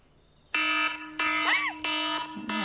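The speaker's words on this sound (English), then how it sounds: "Alarm, jeez." A loud electronic alarm in a video game blares in repeated long buzzing tones, three sustained blasts separated by short gaps, with a brief voice sound partway through.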